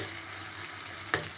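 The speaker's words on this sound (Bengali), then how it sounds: "তেলেই সেদ্ধ হয়ে যাবে, তেলেই ভাজা হয়ে যাবে," Jackfruit seeds frying in oil in a pan on a gas stove, a steady close sizzle with one sharp clink of stirring near the end, no voices.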